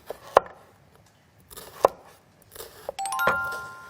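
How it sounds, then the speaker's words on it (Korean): Knife chopping an onion on a board in a home kitchen: a few sharp, separate cuts spaced about a second apart, close and fairly quiet, followed by a brief bright ringing tone. "양파를 썰을게요."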